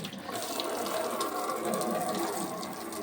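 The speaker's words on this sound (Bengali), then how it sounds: "তার আগে আমি এটা এই যে কল চালিয়ে ধুয়ে নেবো।" Steady, close rush of running tap water used to wash a fish tank lid, a continuous full splashing gush with no talk.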